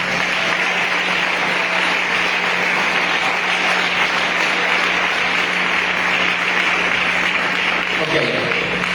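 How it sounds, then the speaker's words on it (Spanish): A congregation at a church thanksgiving service applauds continuously, with a loud, dense and steady roar of clapping and a faint electrical hum running underneath. "Denle un aplauso al Señor."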